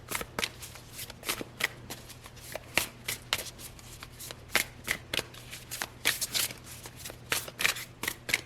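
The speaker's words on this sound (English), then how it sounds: "I'm very adamant about shuffling on camera" Tarot cards are shuffled by hand close up, producing quick crisp riffles and soft slaps that come in an irregular run of bursts. Faint background hum sits beneath, and no one speaks.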